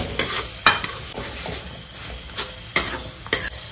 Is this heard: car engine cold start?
no